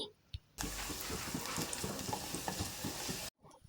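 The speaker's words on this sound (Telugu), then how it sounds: "ఇందులోకి ఒక రెండు ఎండు వెల్లుల్లిని కూడా వేసి మంచిగా వేయించుకోవాలండి" Dried garlic and seasoning seeds frying in a pan for tomato chutney, a steady close sizzle with scraping stir strokes, cutting off abruptly near the end.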